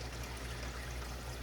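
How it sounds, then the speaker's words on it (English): Water pumped out of a 75-gallon cherry shrimp tank, a steady close rushing and trickling flow that holds even and unbroken throughout. "what I got going now, the pump is pumping water out"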